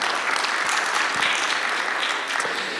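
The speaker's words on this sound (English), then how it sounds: "You can give them a round of applause," Audience applause from a healthcare panel discussion audience, a steady, dense clapping that fills the whole stretch at a fairly loud level with no talk over it.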